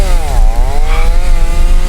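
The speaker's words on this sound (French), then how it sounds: "il y a le mec avec sa tronçonneuse" Chainsaw from the horror game Escape the Backrooms revs loudly and close, its buzzing drone sliding in pitch as the engine rises and falls, with no talking over it.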